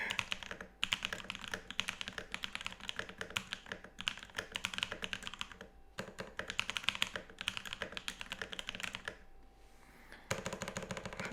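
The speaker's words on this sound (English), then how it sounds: "Love that backspace" Continuous typing on a computer keyboard with repeated backspace presses, close and steady, with dense clicks broken by a couple of brief pauses.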